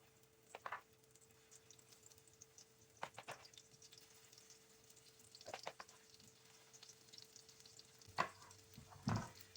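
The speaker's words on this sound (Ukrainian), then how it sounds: "Смажимо під закритою кришкою 2-3 хвилинки з одного боку" Oil sizzles quietly in a pan as pancakes fry, a faint, steady hiss broken by a few sharp clinks and scrapes from utensils.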